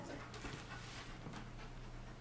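A dog panting steadily up close, soft and continuous with a faint low hum underneath and no talking.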